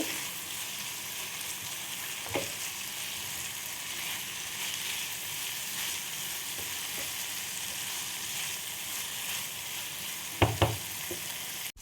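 Prawns and corn frying in a pan while making chilli prawns, a steady close hiss of sizzling oil with a few sharp spatters and stirring clicks, no talking.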